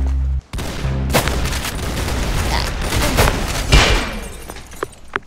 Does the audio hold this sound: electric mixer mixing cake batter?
no